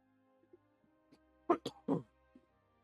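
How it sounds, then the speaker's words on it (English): A person in a coughing fit during a team game match, with a few harsh, close coughs and throat sounds in a quick cluster, plus small fainter throat noises before and after. "I'm having a cough fit."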